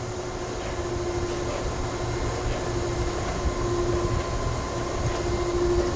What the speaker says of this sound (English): You can sharpen the wheel without stopping the grinder.